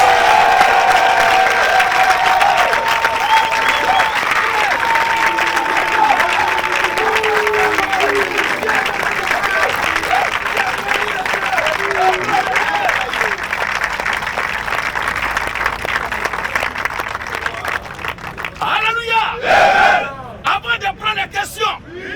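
A crowd at a Christian religious gathering claps loudly and steadily with cheers and babble mixed in, and the applause thins into scattered claps toward the end.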